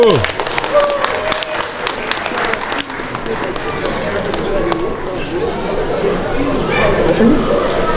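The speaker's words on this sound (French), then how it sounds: "On les applaudit très fort." Audience at a cosplay event applauding, a steady bed of crowd clapping and chatter with a voice speaking over it near the microphone.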